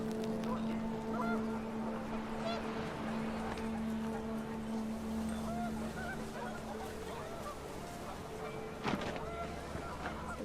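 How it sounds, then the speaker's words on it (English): Panicked geese honking in the video game What Remains of Edith Finch, with steady overlapping honks sustained over a windy, noisy backdrop at fairly low level, punctuated by a brief sharp knock near the end. "The wind picked up, and panicked geese appeared and quickly went."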